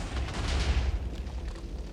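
Explosive pickaxe breaking blocks in a Minecraft prison server, a run of deep, muffled booms and rumbling bursts rolling together, moderately loud with no talking.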